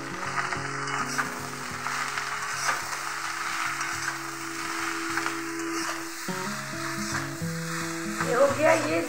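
Desi bottle gourd frying in a pan on a medium-low flame, a continuous close sizzle with scattered spatula scrapes, under a melodic background music track.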